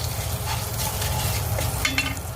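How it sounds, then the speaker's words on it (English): A pan of stir-fry with a beef bouillon cube added sizzles steadily up close, with soft scraping and clacking as the food is stirred around, and no voices. "I add in 1 cube of beef bouillon, just stir fry a little bit."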